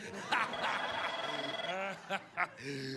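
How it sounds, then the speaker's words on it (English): A telephone rings during a TV talk-show interview, a warbling electronic ring repeating over a couple of seconds with voices talking briefly around it. "By all means, take a phone call during the interview."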